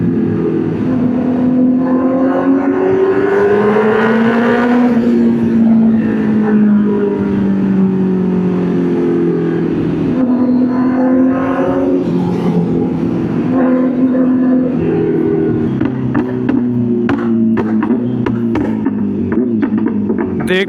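A Kawasaki Z900 motorcycle on the move, its engine droning loud and close with a steady buzzing tone that rises, falls and revs through gear changes, and no talking.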